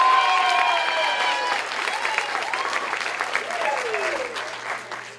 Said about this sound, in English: Give another round of applause for her.